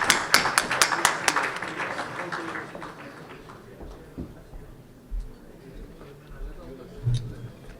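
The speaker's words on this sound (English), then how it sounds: "Ladies and gentlemen, please give a big round of applause" Applause at a chamber of commerce annual dinner welcoming a speaker on stage, sharp claps loud at first then thinning and fading away within a few seconds, leaving quiet room noise with faint bumps.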